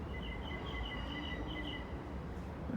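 A train rumbles and hums steadily in the background, with faint squealing tones from the rail cars and an occasional distant bird call.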